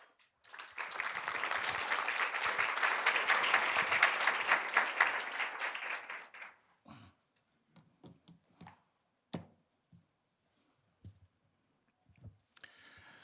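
Audience applause welcoming a speaker at a nuclear nonproliferation conference, a sustained burst of many hands clapping for about six seconds before fading to scattered claps and quiet room noise.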